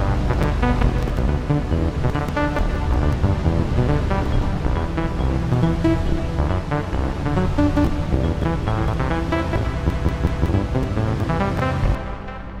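A chillout trance loop layered with Nexus After Midnight pads in FL Studio, a dense, washy bed of sustained chords and shimmering high texture that plays steadily throughout, loud and full, with no voices.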